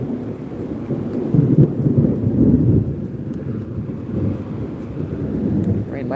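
Rumbling thunder with steady rain from a Florida thunderstorm at a cypress slough preserve, a continuous low roar swelling louder for a few seconds before settling back, with no talk over it.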